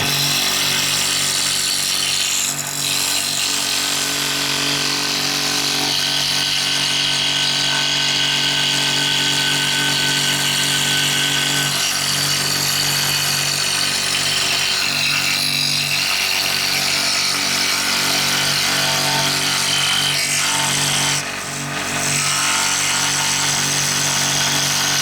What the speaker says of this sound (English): There's just so much you can do with a scroll saw.